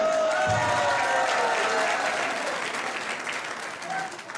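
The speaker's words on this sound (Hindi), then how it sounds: "तालियां।" A crowd at a New Year 2013 celebration poetry recital at Gupt Vrindavan Dham breaks into loud, dense applause that slowly thins out toward the end.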